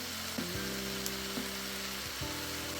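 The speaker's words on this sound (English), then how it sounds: "The veggies cooking in the pot, gathering all those wonderful flavours." Vegetables cooking in a stew pot for beef and sweet potato stew with Worcestershire sauce added, a steady close sizzle under a low hum, with a few soft clinks, no speech.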